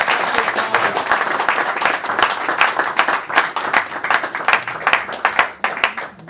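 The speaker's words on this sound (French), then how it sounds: "j'aurais souhaité que les hommes applaudissent sans que les femmes ne le fassent" Men in an audience at a Brazzaville talk gathering applaud, a dense, loud and continuous run of clapping that swells and fluctuates over several seconds with no talking.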